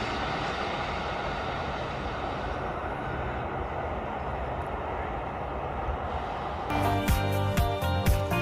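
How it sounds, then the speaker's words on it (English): A train rolls away with a low, steady rumble that holds at moderate loudness, then a rhythmic burst of clacking wheel and coupling sounds breaks in near the end. "and the sound of the train starting to move away"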